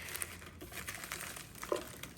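Rustling and crinkling of wrapping material as a toy is unpacked, with soft crackles and a couple of sharper crinkles near the end, close and moderately quiet.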